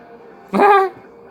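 A single short, high whimpering yip from a husky pup, close and clear against a quiet background.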